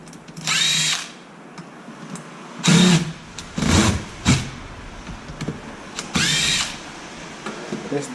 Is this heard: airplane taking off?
no